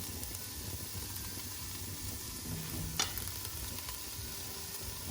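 Scotch bonnet pepper, garlic and ginger frying in a pan with onions, a quiet steady sizzle and hiss throughout, with a brief sharp clink near the middle and no talking.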